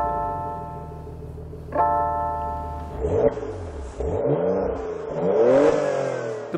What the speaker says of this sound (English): The base Cayenne is now powered by a 3-litre turbocharged V6 that pushes 335 horsepower